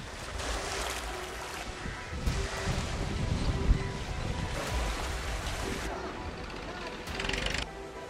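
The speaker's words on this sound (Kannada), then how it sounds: "ಕಟ್ಟಾದ ಗೇಟ್ನಲ್ಲಿ ಹೆಚ್ಚಿನ ನೀರು ಹರಿದು ಹೋಗ್ತಿದೆ." Water pours through a broken gate at the Tungabhadra Dam as a steady, wide roaring rush, with wind buffeting the microphone; a voice talks faintly under the noise.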